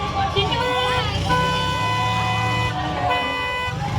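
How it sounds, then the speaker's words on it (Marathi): Loud, sustained train horn blasts sound up close, several long tones overlapping and holding for seconds with brief pauses between. "हे बघा ही ट्रेन हॉर्न पण वाजवते."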